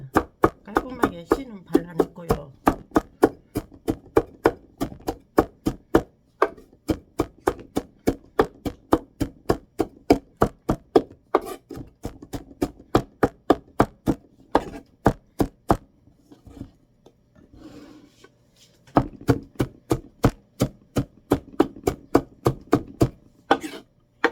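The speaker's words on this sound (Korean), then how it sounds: "홍고추 청고추 다져 넣습니다" Red and green chili peppers being minced with a knife on a board: a long run of crisp, evenly spaced chops, close and steady, with short pauses between bursts.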